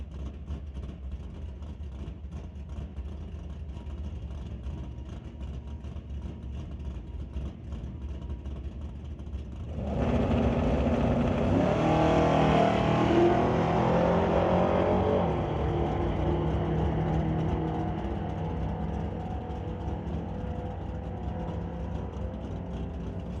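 A 2023 Charger and an S10 launch off the line at a drag race, a sudden loud roar cutting in mid-clip over crowd ambience and swelling, then slowly fading as the cars pull away.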